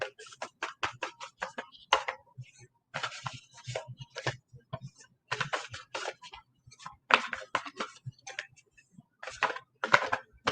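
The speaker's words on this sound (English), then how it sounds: "Let me give it the good shuffle." A deck of tarot cards is shuffled by hand at close range, with quick bursts of crisp riffling and flicking clicks broken by short pauses, and no voices.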